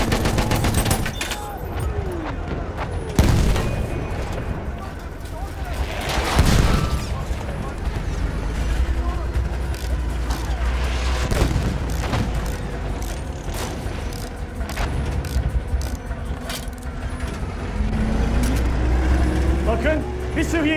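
Battlefield 1 battle soundscape with heavy booming artillery explosions at intervals, layered over gunfire and vehicle rumble, while a voice speaks.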